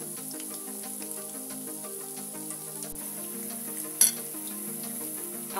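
Shrimp fritters fry in hot oil, a steady close crackling sizzle with a sharp clink near the end, no voices.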